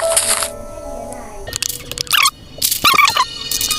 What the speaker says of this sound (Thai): ไก่ดูไก่